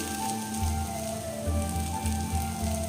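Chow mein noodles hitting a hot pan at home give a steady, close sizzle with a crackling, rain-like hiss that swells in a few soft pulses over a low rumble.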